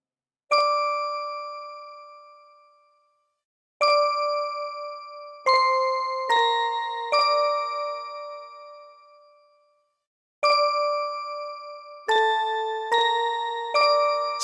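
A music-box-style bell synth plays a slow melody of clear, ringing tones, each decaying gently, in phrases separated by brief pauses.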